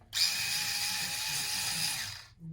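A cordless screwdriver whirs in one steady burst of about two seconds, a high motor whine that starts abruptly and cuts off, close by.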